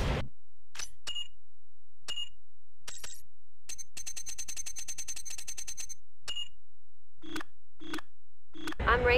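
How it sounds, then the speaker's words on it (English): A series of electronic beeps and chimes from the in-car short message system in the video game Need for Speed: Underground 2, then a rapid stream of tonal blips like an incoming message alert, ending in a brief burst of noise. "what you're hearing is the car's short message system"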